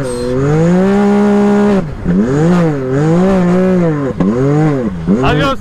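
A Can-Am Renegade ATV revs hard on a slippery track, its engine climbing and falling in loud, close pulls with a brief drop between bursts and a short sharp squeal near the end.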